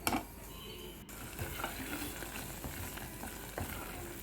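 Ivy gourd masala curry sizzles in oil in a pan while being stirred, a soft steady frying hiss broken by spoon scrapes and light clinks, close but fairly quiet, no speech.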